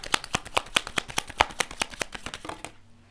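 Tarot cards are riffled and shuffled in a fast, even run of crisp flicks close to the microphone, about fifteen snaps in under three seconds, stopping abruptly near the end.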